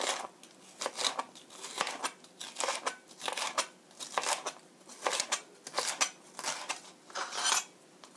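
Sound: knife thinly slicing green bell pepper

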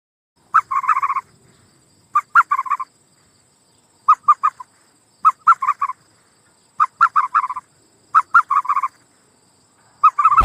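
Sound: ostrich call

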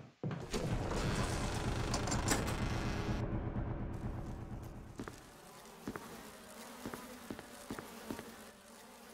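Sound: bees buzzing in video game Resident Evil

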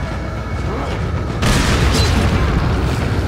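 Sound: incendiary grenade explosion in Resident Evil 4 video game

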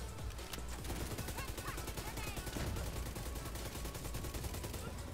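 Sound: gunfire in the video game Division 2

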